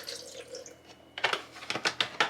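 Almond milk poured by eye into a container, heard as a faint liquid trickle followed by a run of bright, rhythmic splashing glugs, close and alone with no talking.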